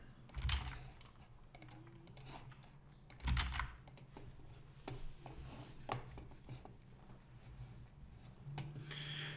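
Rapid, uneven clicks of a computer keyboard as a username and password are typed in, close and fairly quiet, with a few louder keystrokes standing out and no voices.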